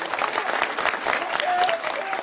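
Crowd at a political rally in Parli breaking into sustained, dense applause, fairly loud and even throughout, with faint voices mixed in.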